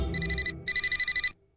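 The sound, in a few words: telephone ringing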